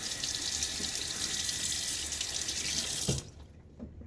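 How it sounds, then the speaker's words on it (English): A razor blade is rinsed under a running tap, a steady loud rush of water from the faucet that cuts off abruptly near the end, leaving a faint drip and a soft knock. "So we rinse the blade off"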